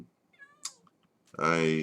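A Minecraft cat meows in the game, a short high mew followed by a louder drawn-out meow, close and clear, with faint clicks in between.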